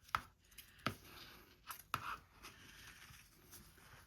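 Scissors snip through brown kraft paper strips in a few sharp, quiet cuts spaced about a second apart, with faint rustling of paper in between.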